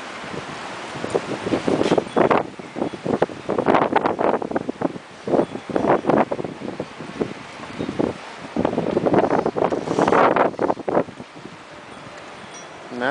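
Strong blizzard wind rushes in repeated loud gusts over a steady hiss of blowing snow, surging and easing for several seconds at a time, with no talking.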